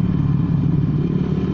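A Honda Vario scooter with a carburetor and bored-out engine runs at a steady, close, droning hum with a constant low throb and no pauses.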